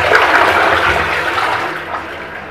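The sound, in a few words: toilet flushing with reused hand-washing water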